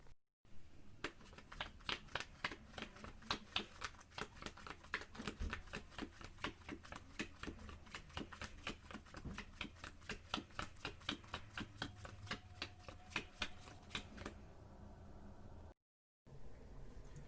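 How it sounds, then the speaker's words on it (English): Playing cards are dealt and shuffled one by one in a fast, steady run of crisp snaps and flicks, close and alone for several seconds before pausing. "we're going to do this interesting way of shuffling, and here's how it's going to look"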